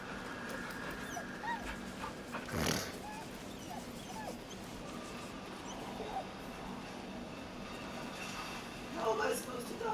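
A dog whimpers in the video game Baldur's Gate 3, giving soft, short yips and whines at intervals over a busy game soundscape and a steady background hum.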